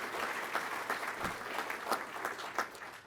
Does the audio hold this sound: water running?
no